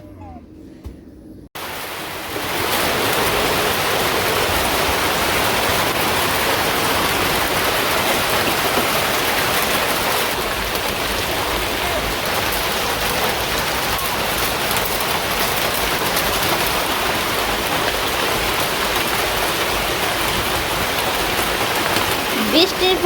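Heavy village rain drums loudly and continuously on a tin roof, starting abruptly after a short quiet moment and holding a dense, close roar throughout.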